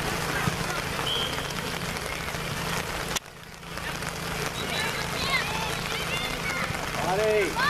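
Steady rain pours throughout an outdoor youth soccer game, a dense continuous hiss with distant shouts and whistles from the field and people talking nearby.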